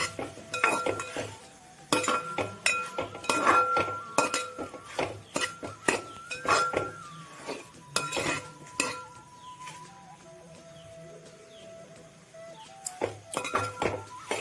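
A pot of Kerala avial is opened and stirred with a spoon, giving repeated sharp clinks and metallic taps of utensils against the vessel, close and fairly loud, with a quieter pause near the end.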